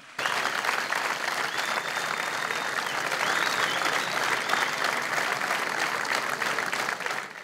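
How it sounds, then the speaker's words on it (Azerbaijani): A large audience at a fight club tournament breaks into loud, sustained applause after a bout, a dense wash of clapping that holds steady for several seconds with no speech over it. "Bu gürültülü alqışlar sizlər üçün."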